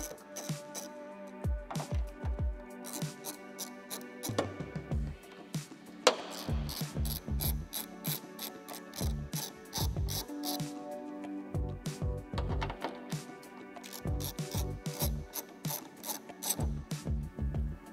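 Hand ratchet backing out four 8mm bolts on the outside of a cover on a 2022 BRZ/GR86, heard as repeated bursts of quick clicking with brief pauses between bolts, close and fairly quiet.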